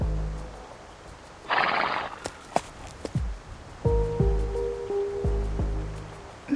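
Horses neigh in several loud, shaky whinnies, joined by hoof clops and a burst of rushing noise, with no talking, from the video game Reverse: 1999.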